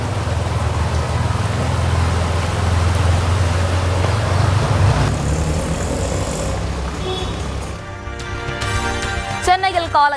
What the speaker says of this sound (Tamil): சென்னையில் அதிகாலையில் பெய்த மழையால் சாலைகளில் வெள்ளம்